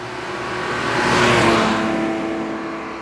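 Porsche 911 with a flat-six engine driving past, its steady tone swelling as it nears and fading as it moves away, a single close pass with no talking.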